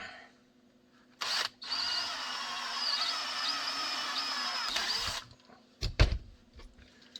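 A power drill whirs steadily for about three and a half seconds drilling a hole in a Glock 19 frame, a close, loud, high-pitched whine framed by a few sharp clicks before and after.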